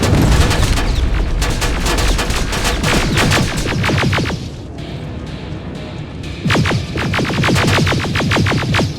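Heavy gunfire rattles in Terminator: Resistance, long loud bursts of rapid automatic shots that pause briefly midway, then resume just as dense and booming.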